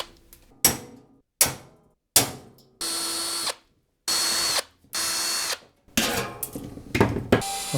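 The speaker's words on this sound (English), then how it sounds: "Instead of masking the case off, it's actually much quicker to drill out all the rivets." A power drill bores out the rivets of a computer case for an ABIT BP6 build, in short bursts: several quick stabs, then three sustained whining runs of about a second each, then choppy grinding. Close and loud, with no talk.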